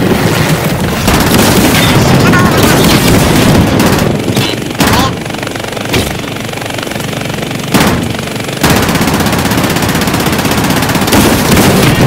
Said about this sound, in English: Yeah, I'm throwing a grenade over there.